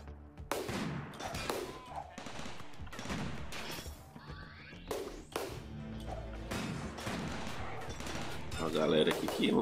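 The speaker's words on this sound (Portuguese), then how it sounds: "Tá atirando, né?" Gunfire crackles in a RimWorld raid as repeated sharp shots and bursts fire in quick succession, some overlapping, over ten seconds against a steady game background.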